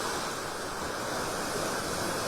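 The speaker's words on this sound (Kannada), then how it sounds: "ಸಮುದ್ರ ತೀರಕ್ಕೆ ಭಾರೀ ಗಾತ್ರದ ಅಲೆಗಳು ಅಪ್ಪಳಿಸ್ತಾ ಇವೆ." Large sea waves driven by Cyclone Remal pound the Karnataka coast near Mangaluru, a continuous dense roar of surf that stays loud and unbroken throughout, with no speech.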